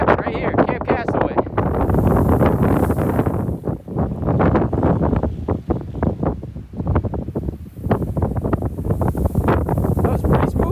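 Strong wind gusts across exposed sand dunes near Coos Bay, Oregon, buffeting the microphone with loud, continuous roaring rumble that surges and dips, with faint talk underneath.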